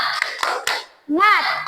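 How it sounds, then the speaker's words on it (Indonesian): A classroom of children does a rhythmic spirit clap, with three quick, sharp claps evenly spaced, followed by voices shouting together. "Kita mulai, tepuk semangat."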